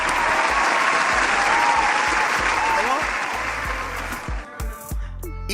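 Loud, dense audience applause in a TV studio marking a show's one-month anniversary, holding strong before breaking up as voices and music come in at the end.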